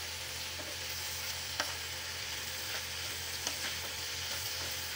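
Snake gourd being stirred and fried in a pan with cumin, turmeric and salt, a soft steady sizzle punctuated by a few spatula scrapes, fairly quiet throughout.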